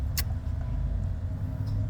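Street traffic goes by as a steady low rumble of cars at moderate distance, with one brief higher sound near the start.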